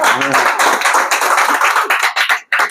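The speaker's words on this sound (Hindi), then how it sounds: "जोरदार तालियां" Loud clapping from people in a studio office, a steady, close burst of many hands, briefly broken near the end.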